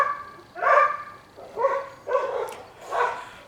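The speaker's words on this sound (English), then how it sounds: "I guess I better go see what the dogs are barking at." Dogs barking at night, four spaced barks of similar strength in a slow rhythm, moderately near with a faint background hush and no talking.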